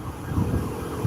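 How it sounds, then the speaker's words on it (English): A police siren wails steadily amid traffic rumble near a political rally in Beverly Hills, sounding moderately distant. "police vehicle traffic and sirens"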